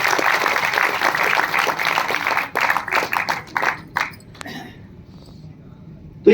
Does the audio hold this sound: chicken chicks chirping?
no